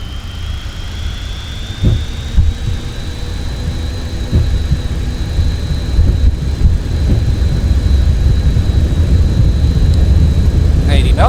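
Twin jet engines of a CSS Boeing 737 in Microsoft Flight Simulator 2024 roar steadily at takeoff thrust, a rising whine settling into a loud constant rumble with occasional thumps of the rolling aircraft.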